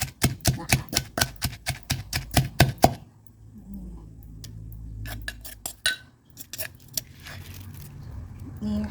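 Ingredients pounded in a Thai mortar and pestle for a steamed fish and vegetable dish, a fast steady run of sharp knocks for about three seconds, then scattered lighter taps and a soft voice, close and clear.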